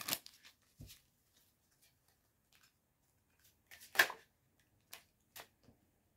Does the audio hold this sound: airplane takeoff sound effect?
no